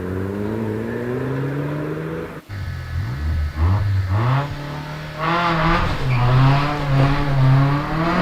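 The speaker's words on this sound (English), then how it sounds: "Off the line goes Einan Price in his Audi TT Quattro" Audi TT Quattro rally car launching off the line at the Prescott hillclimb, engine loud and close, revving hard through rising gear changes with brief lifts between shifts.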